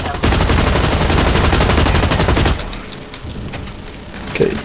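Burst rifle fire in Blacklight Retribution, a loud, rapid stream of shots for about half the time that cuts off abruptly, leaving quieter scattered game sounds and a few isolated clicks.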